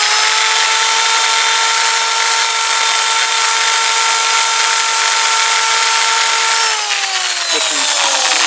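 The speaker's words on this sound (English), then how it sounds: "I've got my little drill attachment and a wire brush" A loud, continuous whining drill fitted with a wire brush attachment runs with a harsh abrasive scrubbing hiss, its pitch dipping slightly near the end as the load changes.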